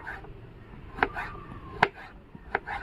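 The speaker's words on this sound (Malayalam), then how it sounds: "അപ്പോൾ ക്യാരറ്റ് നമ്മൾ കട്ട് ചെയ്യുക ദേ ഇങ്ങനെയായിട്ട് നീളത്തിലായിട്ടാണ് അരിയണേ" A kitchen knife chops a carrot into thin long strips, giving three or four crisp, evenly spaced strikes against the board, close and clear with no talking.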